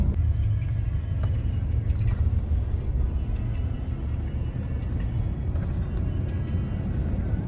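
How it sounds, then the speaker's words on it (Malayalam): A car arriving in the desert outside Dubai, its engine a steady low rumble close by under wind noise, with no one speaking. "വണ്ടി വന്നു"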